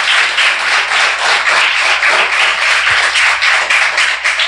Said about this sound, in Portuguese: Por que você não aplaude ele?